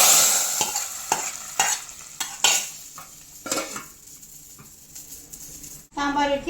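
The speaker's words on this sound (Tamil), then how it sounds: "நல்லா கடுகு ஜீரகம்லாம் நல்லா பொரிஞ்ச உடனே தூக்கி சாம்பாரில் ஊற்றி டப்புன்னு மூடிடணும்." Mustard seeds and cumin crackling in a hot tempering, with sharp spoon-and-pan clinks and scrapes, then a brief burst of sizzle as it hits the sambar; a voice speaks during it.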